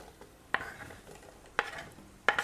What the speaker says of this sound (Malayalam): അപ്പോൾ മഷ്റൂം ഇട്ട് നന്നായിട്ട് ഇളക്കിയതിന് ശേഷം വെള്ളം ഒഴിച്ചു കൊടുത്തു കഴിഞ്ഞാൽ നമുക്ക് അരിയിടാം